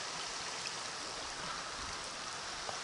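A mountain stream on a trail in Montseny natural park, Spain, gives a steady, full rushing wash of flowing water, continuous and fairly close, with no voices.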